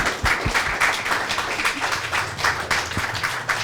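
Audience applause at an archaeology lecture in Athens, a dense steady wash of many hands clapping, sustained and fairly loud throughout with a few closer individual claps.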